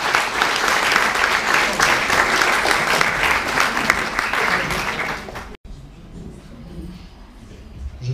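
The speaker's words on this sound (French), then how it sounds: "je vous demande d'applaudir bien fort Amina." A large audience at an eloquence contest finale applauds loudly and continuously for several seconds before an abrupt cut to quieter room sound with faint murmuring.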